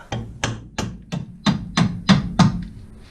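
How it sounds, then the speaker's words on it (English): Eight sharp metallic hammer taps on a nut threaded back onto a bolt to protect the thread during a Triumph Spitfire 1500 steering and suspension refurb, evenly spaced about a third of a second apart, close and fairly loud with no talk. "Just protect the thread by giving it a little bit of a tap."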